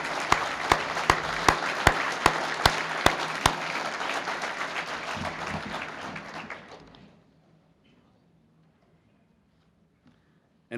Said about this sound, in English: give a round of applause to all of the Chamber's award winners again